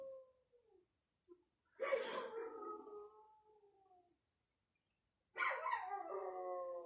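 A dog howls in long, wavering, falling cries broken by short whimpers, with a quiet gap between two drawn-out howls; close and clear against a silent background.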